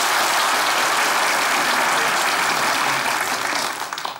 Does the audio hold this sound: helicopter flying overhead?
no